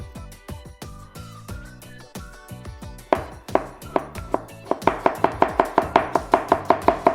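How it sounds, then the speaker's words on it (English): A knife chops beef steadily on a cutting board, slower at first, then speeding into a fast, even run of sharp, loud knocks close by. "And that is it for chopping."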